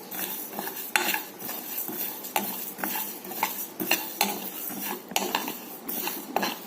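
Whole spices, including fennel, are dry-roasted over medium heat and stirred in a pan, a quiet, repeated scraping and clinking of the spoon against metal in a steady rhythm, with a faint rustle of the seeds and no voices.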